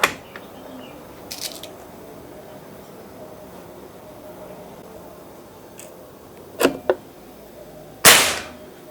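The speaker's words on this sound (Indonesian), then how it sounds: "Oke, kita mulai untuk tembakan pertama ya." A sharp, loud Mauser PCP air rifle shot cracks near the end after a couple of quieter clicks and handling noises against a quiet background.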